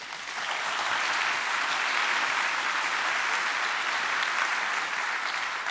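A conference audience at EuroPython applauds, a dense even roar of clapping that swells in within the first second and holds steady at full strength to the end.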